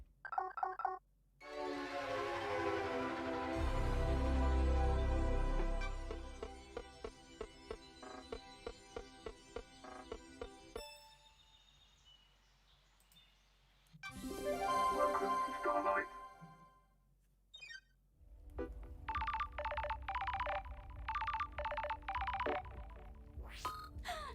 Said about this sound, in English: Phone call from the judge is expected.